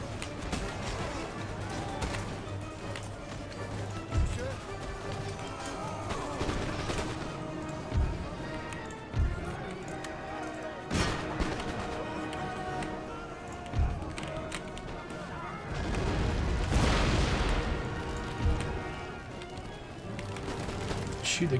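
Scattered musket volleys and artillery blasts from an Empire: Total War siege battle near a breach, with guard artillery and line infantry engaged, thump at intervals under steady talking and busy battlefield noise.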